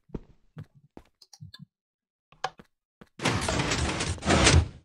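Wooden doors in Minecraft clack open and shut in a scatter of short clicks after a lever is flipped, then a loud sustained noisy burst takes over to the end, with no speech.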